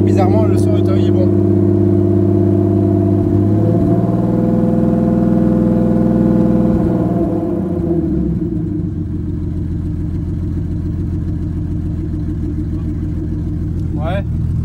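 A turbocharged BMW E36 engine, running rich on its first start without engine management, revs loudly, then settles into a rough, steady idle. Its exhaust drone is continuous and close, with brief voices near the start and end.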